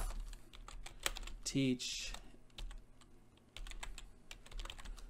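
Quick, light clicks of typing on a computer keyboard while signing in to Scratch in a 5th-grade class, an irregular patter of keystrokes with a brief spoken word in the middle.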